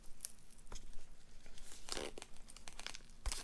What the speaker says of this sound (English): apply a couple of strips of masking tape around it